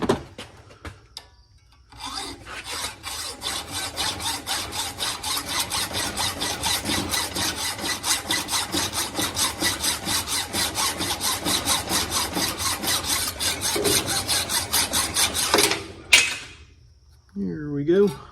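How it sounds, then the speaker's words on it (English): A metal threaded part being sawn off in a workshop: steady, fast back-and-forth strokes, loud and close, running for about fourteen seconds before stopping abruptly. "I'm going to try to cut that off and weld it to this"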